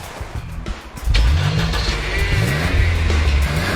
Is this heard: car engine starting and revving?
yes